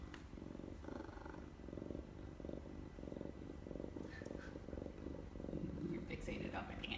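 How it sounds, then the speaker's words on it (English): Low, rhythmic purring from a rescue cat held close, a steady rumbling pulse with soft higher sounds from people nearby toward the end. "So are you guys hearing this amazing purr?"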